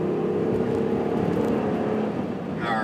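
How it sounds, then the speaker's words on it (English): Steady, loud engine drone from a 2014 Ram 1500 with a Hemi V8, heard from inside the cab while driving, holding a constant revving roar for the whole stretch with a slight dip near the end. "Hear that motor, man."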